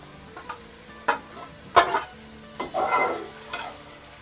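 Roughly chopped tomatoes and halved chilies go into a pan and get stirred, with a few close scraping knocks and a brief burst of sizzling, separated by short pauses.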